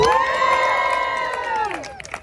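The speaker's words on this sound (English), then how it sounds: "Everybody scream." A beach crowd at a magician's outdoor show on the Clearwater, Florida shore screams on cue, a loud sustained burst of many voices that holds for about two seconds and then trails off.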